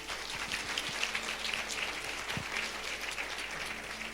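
Church congregation clapping during a sermon, a steady crackling patter of many hands that sounds slightly distant and soft, continuing evenly throughout.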